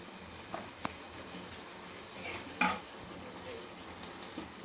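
Sliced onion and coriander leaves being mixed into cooked chicken gizzards in a pan, with a few faint scrapes and clinks of a spoon over a quiet background and one brief louder clatter.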